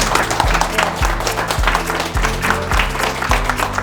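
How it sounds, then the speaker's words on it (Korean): Dense, sustained applause from a crowd at a political economic policy meeting in Daegu, steady and loud throughout with no pauses. "큰 박수 부탁드리겠습니다"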